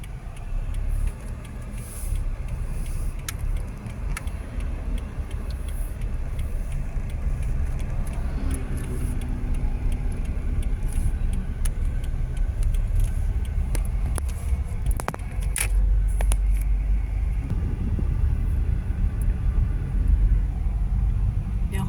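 A car drives into a rural village in Thailand with a low, steady engine rumble and road noise, heard from inside the vehicle, with scattered small knocks and no clear speech.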